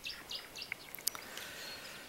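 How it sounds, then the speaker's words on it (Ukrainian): A nightingale sings outdoors at a distance, giving faint, scattered chirps and short bright whistled notes over a quiet background. "Соловей, точно."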